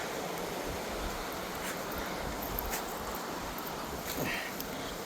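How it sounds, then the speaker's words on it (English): Water rushes steadily down a hill at an old mill stream in Klepzig, a constant broadband wash like surf that holds evenly throughout with no voices. "there you can see that water moving a little better coming down the hill"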